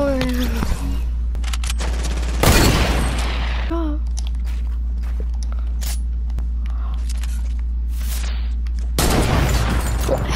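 Fortnite video game gunfire: sharp loud shots at the start and end with scattered quieter clicks and pops between, over a steady low game hum, and a voice speaks briefly early on.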